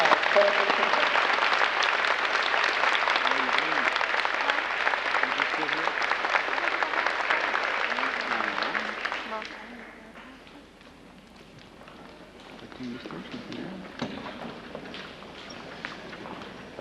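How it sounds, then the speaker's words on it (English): Applause from a middle school graduation audience in 1996, a dense steady clatter of many hands for about nine seconds that then thins to scattered clapping and shuffling as people sit down. "Please, let's give a round of applause."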